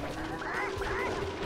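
Roosters in the video game Sly Cooper: two short, harsh honking crows in quick succession, fairly close, over a low background hum.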